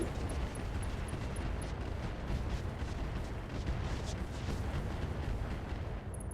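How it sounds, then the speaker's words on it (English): Ammunition cooks off in a mech battle in the RogueTech video game, a dense roaring barrage of explosive blasts and rumble that stays loud and continuous throughout, with no speech. "That's another ammo explosion."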